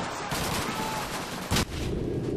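Continuous gunfire in Call of Duty 2 with a single loud, sharp blast partway through from a nearby grenade explosion, followed by more firing.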